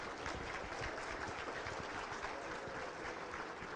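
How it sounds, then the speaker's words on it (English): Guests at an annual charity gala dinner applaud, a faint, even wash of distant clapping held steadily for a few seconds without speech. "please give them a round of applause"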